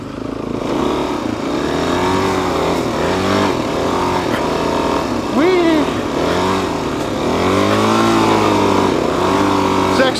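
Suzuki DR-Z dirt bike ridden in first gear on a snowy road, its single-cylinder engine revving up and down in repeated close, loud bursts with rising and falling pitch, plus a voice talking briefly over it.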